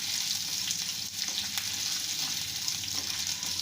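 Something fries lightly in a pan with oil, giving a steady, close sizzle that runs for the whole stretch with a few faint clinks, ahead of a small medium-sized onion going in, while cooking Sabudana tomato khichdi.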